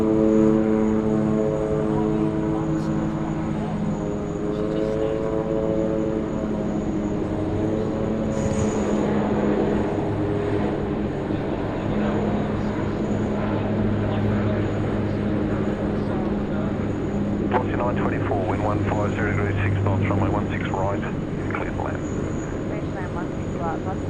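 An airliner makes a rolling takeoff on runway 16 right at Sydney Airport, its engines building into a steady loud roar that holds throughout, with faint talk and radio chatter over the top.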